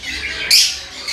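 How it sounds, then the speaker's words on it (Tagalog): Birds in an aviary give a sudden shrill squawk about halfway through, loud and close, with softer chirping and rustle before and after. "unti-unting napupuno ng magagandang klase ng mga ibon"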